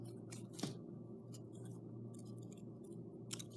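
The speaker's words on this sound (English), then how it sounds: "I want to keep them all cut out at the same time" Scissors snip through paper while elf paper chains are cut out, giving several short, crisp close cuts, with one sharper snip near the start and another at the end, quiet and without speech.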